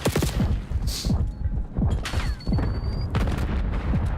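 Gunfire and a grenade blast from a Call of Duty match between LA Guerrillas and Toronto Ultra at a Major III qualifier: a dense run of sharp shots with a heavy explosive burst, loud and continuous over the whole stretch.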